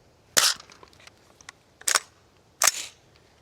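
Three sharp, loud rifle cracks at a Tannerite target, evenly spaced about a second and a half apart, each with a brief bright tail and quiet gaps between.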